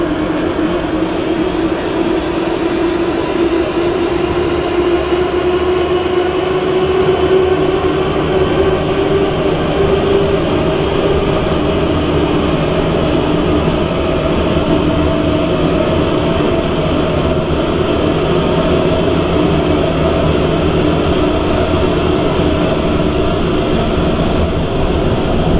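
Automatic Moscow metro train in Roblox rolling steadily along the track, a continuous loud rumble with a low tonal drone that holds for the whole stretch, no voices over it.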